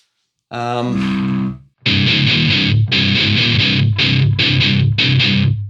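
Heavily distorted electric guitar through a Hotone Skyline distortion pedal plays a sustained chord, then a series of chunky, palm-muted chugs in short bursts, loud and close, with rounded distortion.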